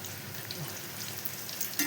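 Diamond-cut snacks deep frying in oil over a low flame, a steady dense crackling sizzle close by, with a brief louder stir or clink near the end.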